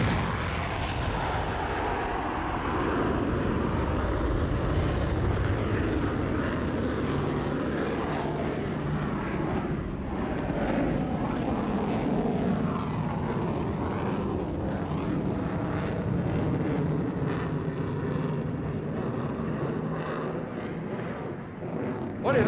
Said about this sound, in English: Gear down, flaps down, simulating a carrier landing. Working that throttle. A touch and go, folks.